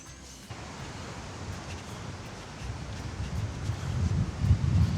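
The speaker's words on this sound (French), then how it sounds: "Le vent il est même pas désagréable là, il est juste parfait." Steady outdoor wind sweeping through pine trees in New Zealand, a broad rushing hiss with low gusty rumble that swells louder toward the end; no voices.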